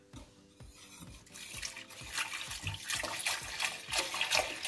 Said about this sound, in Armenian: և ավելացնելու եմ կես լիտր ջուր